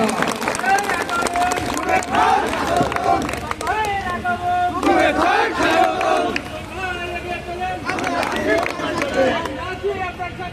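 A crowd at a farmers' rally claps and cheers as a speaker is introduced, loud continuous shouting and excited voices mixed with scattered clapping, with voices calling out over it throughout.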